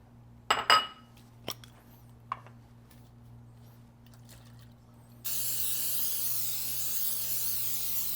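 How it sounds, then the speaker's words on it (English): Non-stick cooking spray hisses onto a baking dish in one loud, steady, close burst lasting about three seconds, after some light clinks and taps of dishes being handled on a kitchen counter. "we're going to take a baking dish, and we're going to spray it with non-stick cooking spray."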